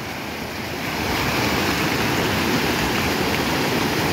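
The flooded Rio Salgado in the northeastern Brazilian sertão surges past in a loud, continuous rush of churning water and waves. A steady roar swells slightly after the first second, with wind buffeting the microphone.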